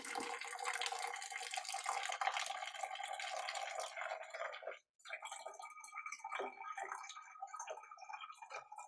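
Apple cider vinegar poured into a water bottle, a close, faint trickling splash that runs steadily, breaks off briefly, then resumes with drips and gurgles.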